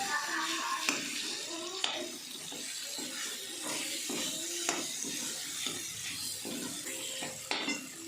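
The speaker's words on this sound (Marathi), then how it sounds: "आता याच्यामध्ये मी पाणी घालून घेते थोडंसं" Water pours and splashes into a pan of frying potatoes in a steady stream, with scraping and light clinks of a utensil against metal.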